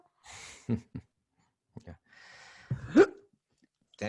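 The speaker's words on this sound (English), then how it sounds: "There's that hiccup. There it is." A person hiccups several times, close to the microphone. The sharp voiced catches are separated by audible breaths and short sighing exhales in an otherwise quiet space.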